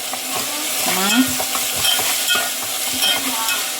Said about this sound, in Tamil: தக்காளி வதக்கிட்டு இருக்கிறேன்.